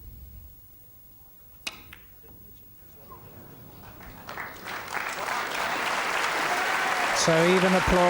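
Applause from the crowd at the 1986 World Championship snooker final swells gradually from faint to fairly loud after a quiet stretch with a sharp click, and a commentator's voice runs over the end.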